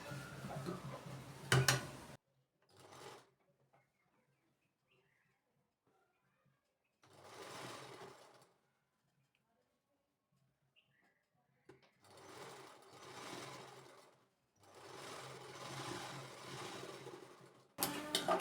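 A sewing machine runs a double stitch along a short kurti in several separate bursts, each lasting a second or two up to about three seconds, with quiet pauses between them and a brief voice at the start.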